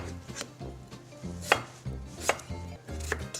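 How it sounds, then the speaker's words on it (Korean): A kitchen knife cuts potatoes into half-moon slices on a cutting board, with a steady run of solid, evenly spaced chops close up and no talking. "우선 절반을 자르고 반달 모양으로 해서 1cm 간격으로 넣을게요."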